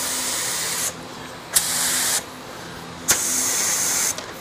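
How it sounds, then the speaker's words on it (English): A paint spray gun set to about 20 PSI fires in auto body repair work, giving loud hissing bursts of spray broken by short pauses, with small clicks as the trigger is pulled and released. "So we're gonna have about 20 PSI of pressure. Test out the pattern."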